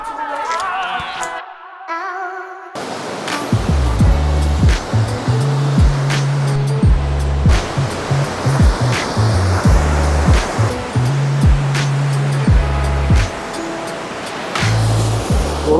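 Roaring whitewater rapids of the Niagara River rush in a steady broad wash after a brief quiet start, heard from close by on a riverside walkway, with low rumbling bursts from passing traffic or wind in the mix.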